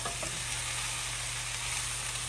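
Vegetables including green cabbage sizzle in a pan for vegan chow mein, a steady bright frying hiss with a faint low hum beneath, continuous and close.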